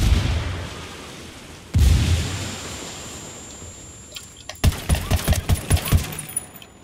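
A frag grenade blows up in Ghost Recon Wildlands with one loud, close boom, then a rapid string of gunshots follows over wind and ambient noise.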